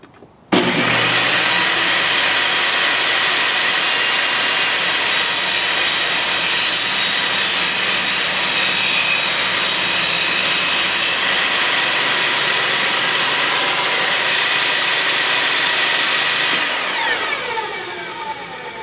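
A Vevor 10-inch table saw rips through 3/4-inch birch plywood, a loud, steady whining cut that holds for about sixteen seconds after the blade bites, then winds down as the saw spins off.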